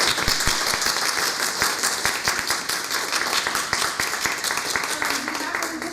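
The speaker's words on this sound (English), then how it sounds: "Let's give one more round of applause for our speaker" A round of applause for a speaker at a district presentation, sharp, close hand claps massed into a steady, lively roll that carries on throughout, with some speech faintly underneath.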